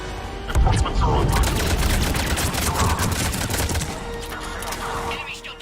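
Automatic gunfire during a sci-fi video game attack on a pod, sustained rattling bursts with booming impacts, loud and close, as radio-style voices talk over the fighting.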